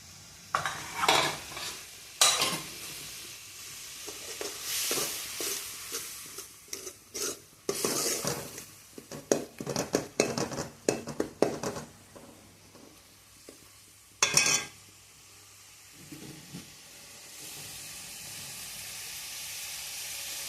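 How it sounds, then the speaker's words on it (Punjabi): Sava bean badiyan cook in a pan with fenugreek leaves, a spatula scraping and stirring in irregular bursts over a soft sizzle, with quieter pauses between strokes and no talking. "ਹੁਣ ਆਪਾਂ ਇਹਨੂੰ ਪਕਾਵਾਂਗੇ ਥੋੜਾ ਜਿਹਾ ਟਾਈਮ ਵਾਸਤੇ ਥੋੜੀ ਜਿਹੀ ਮੇਥੀ ਪਾ ਦਾਂਗੇ"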